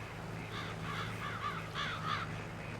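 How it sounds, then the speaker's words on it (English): Crows in the Farming Simulator video game caw repeatedly, several harsh calls arriving in a loose irregular series over a quiet background hum, moderately distant and faint. "And those sound like crows."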